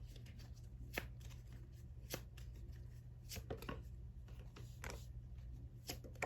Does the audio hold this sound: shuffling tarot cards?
yes